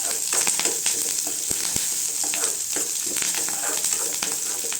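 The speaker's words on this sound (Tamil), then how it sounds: "வெங்காயம் நல்லா வதங்கட்டுங்க," Large onions sautéing in a pan for sundakkai kootu give a steady, close sizzle, with scattered clicks and scrapes of stirring and no voices.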